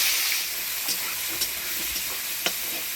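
Ground spice paste of onion, ginger, cumin, coriander and radhuni hits hot oil already holding bay leaf, dried red chilli and white cumin, making a soft continuous sizzle broken by occasional scraping stirs. Nobody speaks.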